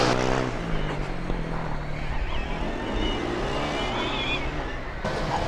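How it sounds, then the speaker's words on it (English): A loud Formula Student race car from UAS Karlsruhe roars steadily on an autocross track, its engine sustained and near, with a commentator's voice faintly present over it. "Oh, this is a loud car."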